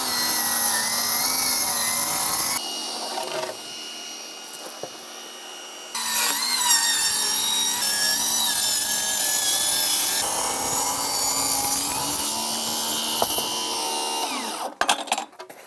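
Saw ripping 1/8 inch off framing boards for a window or door, loud rough cutting noise with a brief quieter break partway, then resuming steadily before trailing into scattered handling clatter at the end.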